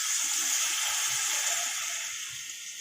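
A little water goes into mash dal frying in a pan, a steady hissing sizzle and gush that slowly eases off, heard close up without talk.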